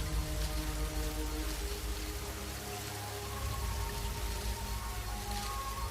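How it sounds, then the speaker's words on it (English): Steady rain falling and pattering on surfaces, a dense constant hiss with scattered drops, no voices. "An early shower is the first rain he's ever felt."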